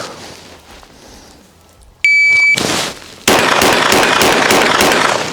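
At pistol shooting practice, a shot timer beep is followed by a sharp pistol shot, then a second loud, close report with a long ringing tail, over a quiet outdoor background.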